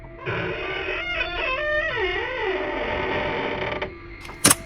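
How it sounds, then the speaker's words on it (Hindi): A rusty wooden haveli door creaks open in a long, wavering, drawn-out groan lasting several seconds, followed by a sharp brief knock or clank near the end. "दरवाजा चीखता हुआ खुला।"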